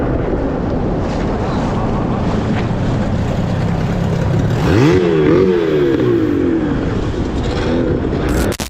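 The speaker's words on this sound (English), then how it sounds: "the teenagers began circling Josiah's kayak, laughing and yelling as they revved their engine" An outboard motorboat engine revs and circles close around a kayak on open water, with steady loud engine drone, rising and falling pitch sweeps as it passes, and wind buffeting the microphone throughout.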